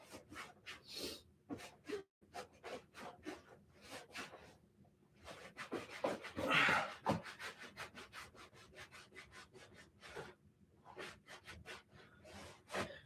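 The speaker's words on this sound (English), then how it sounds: "if you scrub too hard, you're just gonna take more leather off" A brush scrubs dried-out leather boots with leather cleaner in quick, repeated rasping strokes, close and fairly quiet, with short pauses between bursts.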